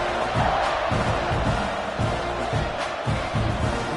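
A stadium crowd roars steadily ahead of kickoff in a college football video game, a dense, distant wash of cheering with rhythmic swells and no commentary over it.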